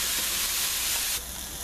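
Shrimp sautéing in a pot for shrimp and crawfish gumbo, a steady broad sizzling hiss that drops slightly in level partway through, with no talking.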